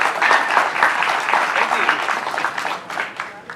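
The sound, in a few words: applause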